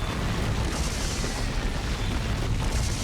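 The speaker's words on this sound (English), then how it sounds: "trying to cap under orbital bombardment" Orbital bombardment in Dawn of War 2 during a Space Marines versus Tyranids battle, heard as a continuous dense rumble of booming explosions with no distinct gaps.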